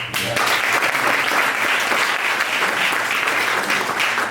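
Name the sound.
audience applause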